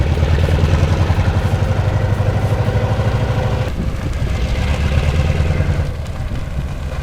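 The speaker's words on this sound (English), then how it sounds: "Just listen to that engine roar." A snow plow truck engine roars close by in a loud, steady drone with a brief dip midway before it picks up again.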